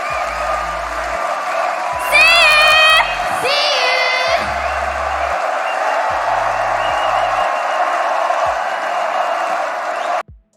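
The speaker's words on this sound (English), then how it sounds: "they had the whole crowd singing and chanting along, all doing the fox sign, and they were all chanting "We want more" as the girls were walking off stage" A concert crowd cheers loudly and continuously, with high whoops and shouts rising out of the roar before it cuts off abruptly.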